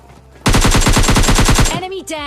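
Rapid automatic gunfire in a shooting video game, a loud close burst of about a dozen evenly spaced shots lasting just over a second, followed by a brief ringing tail and faint game sounds.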